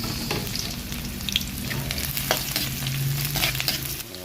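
Garlic and onion frying in a pan for a sardine and moringa leaf dish, a loud continuous sizzle with frequent stirring scrapes and clatters, close up and with no talking.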